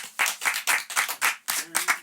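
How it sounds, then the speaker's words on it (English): A handful of people clap in a slow, even rhythm at the close of a podcast episode, about nine distinct claps, close and fairly loud with brief gaps between each. "Give a round of motherfucking applause"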